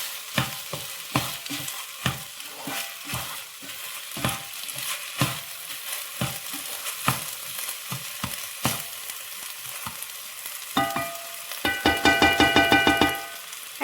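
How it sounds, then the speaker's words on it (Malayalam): Basmati rice frying with onions in a pan for biryani, with a steady sizzle under repeated scraping strokes of a spoon as it is stirred, the stirring turning into a quick burst of rapid scrapes near the end. "ഞാൻ ഇപ്പോൾ അവിടെ എടുത്തിട്ടുള്ളത് ബാസ്മതി റൈസാണ്. ഇതൊന്ന് വറുത്തെടുക്കാം."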